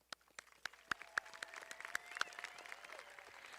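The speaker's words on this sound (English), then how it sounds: "I would like everyone to give a round of applause to the family, faculty, and friends" An audience at a high school graduation ceremony gives a round of applause, a dense patter of many hands clapping that swells and continues steadily, heard from some distance.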